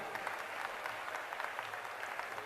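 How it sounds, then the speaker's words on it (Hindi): A large wedding-festival crowd claps steadily for visiting ambassadors, a dense, continuous patter of many hands heard from within the audience. "दोनों हाथ उठा के ताली तो बजा सकते हो ना इनके लिए"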